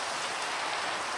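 Steady, dense hiss of rain falling in the Minecraft video game, an even wash of sound without gaps or voices.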